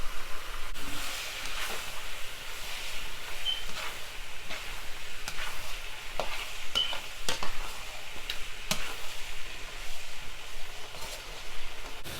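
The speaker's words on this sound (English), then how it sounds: "it has been frying for a little while" Tomatoes fry in a pan as the base for stewed cabbage, giving a steady, soft sizzle with occasional stirring scrapes throughout, no talking.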